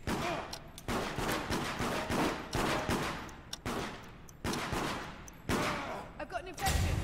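Rapid bursts of gunfire in the multiplayer horror video game Deceit, repeated volleys of shots running almost continuously with brief gaps, loud and close, with voices talking underneath.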